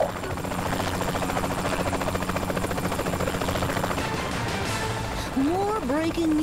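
A helicopter in the video game Saints Row: The Third Remastered gives a loud, continuous rotor chop and engine buzz, and a voice comes in near the end.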